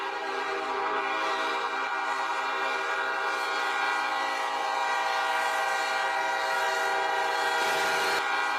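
A long passenger train rolls past at a level crossing, its horn blaring as a steady, loud tone over continuous rail rumble for the whole stretch, no voices.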